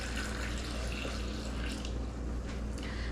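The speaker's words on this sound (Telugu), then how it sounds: "దీంట్లో వాటర్ కూడా పోసుకుందాం అనమాట" Water pours steadily into a blender jar for pineapple kesari, a close, even rushing splash lasting a few seconds with no talking.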